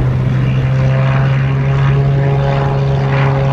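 Cessna propeller plane at Montego Bay, Jamaica, climbing out after takeoff, a loud steady engine drone with strong propeller hum filling the whole stretch, no voices.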